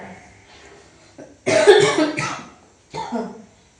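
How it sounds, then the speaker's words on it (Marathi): A person coughs hard in a couple of harsh bursts, then coughs again after a short pause, close and loud. "बघरीत टाकली ठसका लागतोय"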